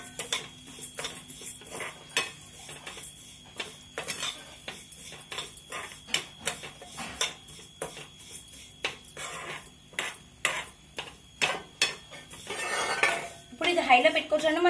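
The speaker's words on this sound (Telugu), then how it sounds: "ఇప్పుడు సేమియా ఫ్రై చేసుకుంటున్నాను నేను" A metal spoon repeatedly clinks and scrapes against a pan while vermicelli fries in ghee, with steady irregular stirring taps close up and a brief louder sizzle-like rush near the end.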